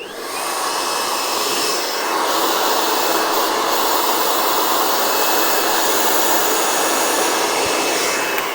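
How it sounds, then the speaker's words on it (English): A blow dryer runs steadily on hair at a salon styling event, giving a loud, continuous whooshing hiss for the whole stretch with no talking. "I'm just going to do a quick little zhuzh with the blow dryer here."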